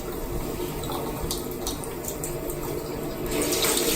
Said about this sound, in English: she wanted me to wash her hands and I told her she could do it